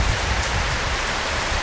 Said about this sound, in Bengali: বৃষ্টি পড়ছে আর এত জলের আওয়াজ।